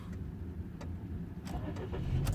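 A Ford Focus with an intermittent no-start fault fires up straight away after repair. Its engine catches and settles into a steady close running hum over a couple of seconds.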